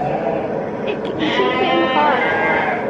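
Sheep bleat on a farm, several calls rising over a steady background murmur, fairly close and clear, with people talking nearby.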